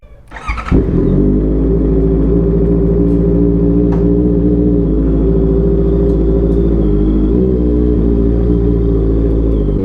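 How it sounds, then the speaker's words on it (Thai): A Honda CBR650R motorcycle fitted with an N Spec exhaust fires up and settles into a loud, steady idle, a deep, even rumble held for several seconds with no voices over it. "ก็เสียงท่อ N Spec นะครับ"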